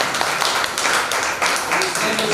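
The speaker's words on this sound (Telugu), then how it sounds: "దయచేసి మనందరం చప్పట్లు కొట్టి వారిని ఆహ్వానిద్దాం." Church congregation at a Sunday service clapping to welcome a guest speaker, brisk continuous applause from a crowd, loud and close throughout.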